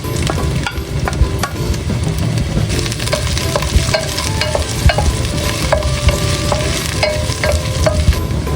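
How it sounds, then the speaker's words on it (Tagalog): Garlic and ginger sauté in hot oil with a steady sizzle, punctuated by repeated clinks and scrapes of a utensil stirring in the pan. "Magigisa na po ako na itong ricado. Lalagay ko na po itong bawang at luya."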